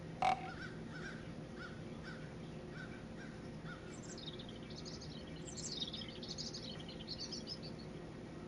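Crows caw several times overhead at a deer hunting camp, distant and fairly faint, with a sharp click at the start and a few higher chirps from other birds later on.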